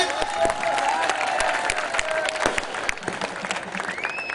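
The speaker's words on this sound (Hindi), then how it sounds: "एक जोरदार तालियों से स्वागत" A large crowd at a Dussehra (Vijayadashami) celebration applauds to welcome a guest, continuous clapping with faint cheering and murmur underneath, a voice briefly audible.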